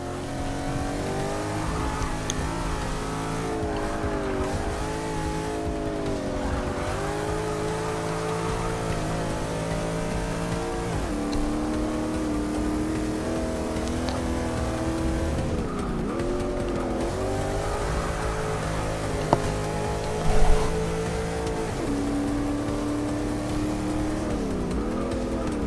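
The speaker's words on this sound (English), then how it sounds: "I was a little bit surprised at the amount of wheel spin I got from that upshift." Race car in Forza Motorsport 6 revs hard through the gears, with wheel spin and tire squeal after an upshift; engine tone climbs and drops repeatedly, loud and continuous with no talking.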